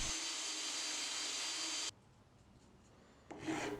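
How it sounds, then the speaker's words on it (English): Sandpaper wrapped around a round drill bit rasps steadily against a wooden knife handle for a couple of seconds, stops briefly, then resumes with a loud scraping burst. "I'll use rubber bands to wrap sandpaper around a round drill bit that I have"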